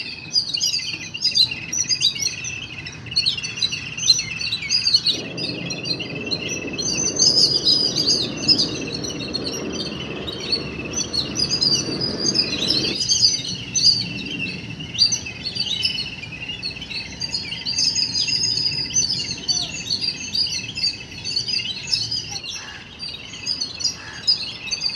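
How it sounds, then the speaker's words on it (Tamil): Morning birdsong: many birds chirping and calling in quick overlapping bursts throughout, bright and fairly close, with a low background hum in places. "காலை பொழுதில் பறவைகள் கூச்சலிடுவதை பற்றின பதிவு"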